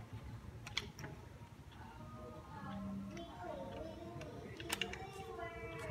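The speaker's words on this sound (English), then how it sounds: "You hear that click? And second click." A Rockbros bike strap mount snaps into place with a couple of small, sharp clicks, quiet and close, among faint handling noise and low voices.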